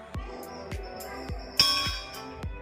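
Metal temple bell at a city mandir in Purnia, struck about five times in a steady rhythm, each clang ringing briefly and close by, with no talking.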